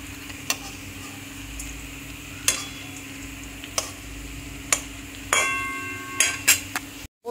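Masoor dal fritters fry in hot oil with a low steady sizzle, punctuated by several sharp ticks and clinks of a utensil against the pan, with no talking.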